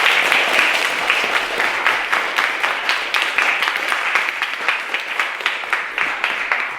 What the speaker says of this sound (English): Give Finton a second round of applause for a brilliant literacy.